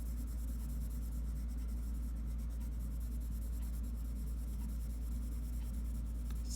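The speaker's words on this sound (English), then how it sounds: "I'm going to do a little bit of burnishing on the edges" A colored pencil is worked on paper to burnish the edges, producing a faint, steady scratchy drawing sound over a low constant hum.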